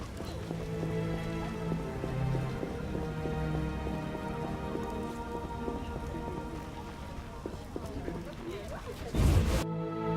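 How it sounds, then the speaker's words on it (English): Steady rain patters on a surface throughout in The Witcher video game, with music-like tonal layers underneath and a brief low rumble near the end. "It's raining."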